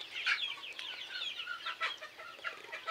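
A flock of DP cross chickens cluck and chirp continuously at a moderate distance, a busy overlapping chatter with no one talking.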